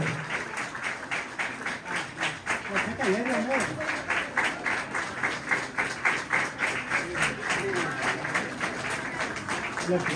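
Sustained rhythmic clapping from wedding guests at a Christian ceremony, a crowd beating out an even, repeated pattern for about ten seconds, with a voice briefly audible partway through.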